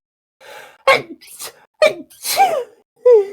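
A single sneeze bursts out amid short vocal sounds during a gaming stream, a sharp broadband burst near the start of a brief cluster of breathy, voiced noises.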